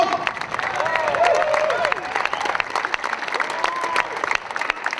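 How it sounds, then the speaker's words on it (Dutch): Dense, steady applause from a concert audience on the Rijnkade quay in Arnhem fills the whole stretch, with crisp overlapping claps and a voice speaking over the crowd. "Fantastisch applaus voor Jelena."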